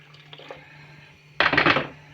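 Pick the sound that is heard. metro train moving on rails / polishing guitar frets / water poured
water poured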